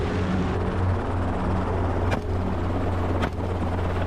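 A helicopter drones nearby with a steady low rotor thrum, broken by two brief sharp clicks.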